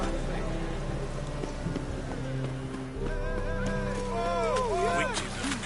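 Steady rain hisses across a scene in the video game Witcher 3, a constant wash under a few passing voices and a brief hoof-like clatter.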